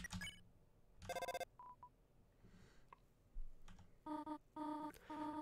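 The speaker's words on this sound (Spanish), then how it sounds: "Parece que estoy recibiendo una llamada de teléfono" Electronic phone-call ringing in the video game Deltarune: short bursts of bright beeping tones repeating in a rhythmic pattern, fairly loud and alone, with no talk.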